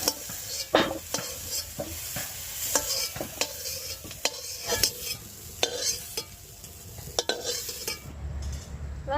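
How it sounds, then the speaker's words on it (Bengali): Cauliflower pieces fried in a kadai, with repeated scraping stirs of a spatula over a soft sizzle, close and distinct, ending in a brief burst of louder frying. "ফুলকপিটা আমি 2 মিনিট ভেজে নিয়েছি"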